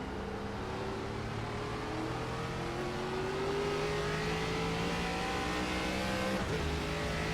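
Race car engine in the iRacing sim at Portland, loud and continuous, its pitch sweeping steadily upward under hard acceleration, then a brief dip near the end as the driver goes down through the gears.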